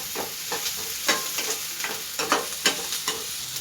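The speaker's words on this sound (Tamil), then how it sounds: "இப்போ நல்லா கிண்டிகிட்டே இருக்கலாம்." Onions and tomatoes frying in a pan for Tamil thakkali thokku, stirred with repeated spoon scrapes over a steady close sizzle, no talking.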